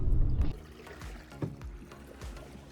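Paddle strokes from a modular Home Depot kayak moving through water near mangroves, with a heavier splash at the start, then softer rhythmic dips and trickles roughly every half second.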